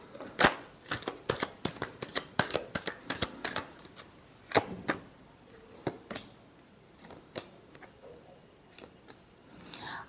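Tarot cards being shuffled for a reading, a close series of crisp, irregular riffling snaps and flicks in bursts, fairly quiet, with no talking over them.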